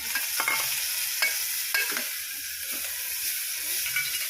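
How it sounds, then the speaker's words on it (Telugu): Onions and green chillies frying in sesame oil for a jackfruit-seed curry, with a steady sizzle and hiss throughout, broken by a few sharper stirring scrapes of a utensil in the pan, heard close with no talk. "నువ్వుల నూనె వేసి ఉల్లిపాయలు పచ్చిమిర్చి వేసి వేపుతుంది."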